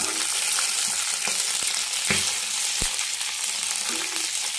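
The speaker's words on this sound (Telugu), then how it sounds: "జాగ్రత్తగా వేయించుకోండి పచ్చిమిరపకాయలు." Green chillies fry in hot oil with a constant sizzling hiss, punctuated by a few sharp pops and spatters of oil.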